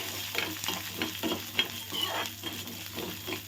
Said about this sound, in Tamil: அதையும் இந்த எண்ணெயிலே வதக்கிக்கலாம்.